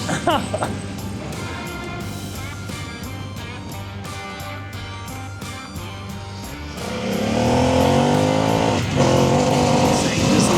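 An adventure motorcycle in Enduro mode accelerates hard, its engine note rising and swelling loud and close. Wind roar grows toward the end, and a rider's voice is heard over it.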